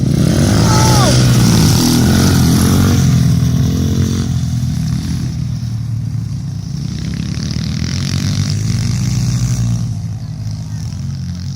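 Pit bike engine at a grassroots race, loud and close at first with revving, then fading somewhat as it passes and continues, with excited shouting mixed in.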